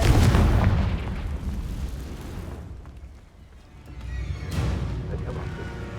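A Confringo fire spell explodes in the Hogwarts Legacy game, a loud broadband boom at the start that rumbles and fades, followed by a second burst of crackling noise near the end.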